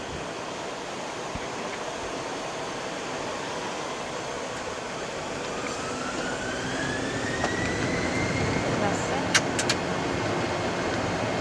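Inside the cockpit of an Embraer 190 jet, the engines hold a steady, fairly quiet roar during the takeoff roll on runway 29, with a rising whine building toward the end and a few faint clicks.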